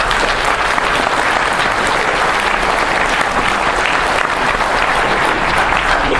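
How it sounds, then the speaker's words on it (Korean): Audience applause at a press conference outside the Supreme Prosecutors' Office, dense sustained clapping from a crowd, loud and steady for the full six seconds. "박수 한번 보내주시죠"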